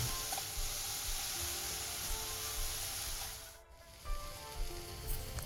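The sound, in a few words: pears with nutmeg caramelizing in a pan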